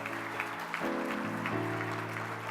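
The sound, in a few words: audience applause at awards show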